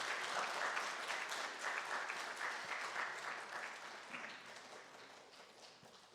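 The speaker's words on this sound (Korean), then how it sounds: "우리 박수로 함께" A church congregation at a Sunday service applauds to congratulate a baptism, a full, steady round of many hands clapping that slowly tapers toward the end.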